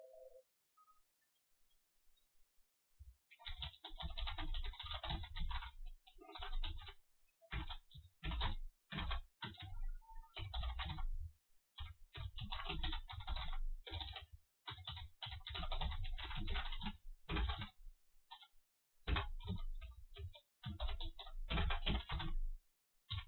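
Lines of text are typed on a computer keyboard in rapid, uneven bursts of close, crisp key clicks. Short pauses fall between the runs of keystrokes, with no voice.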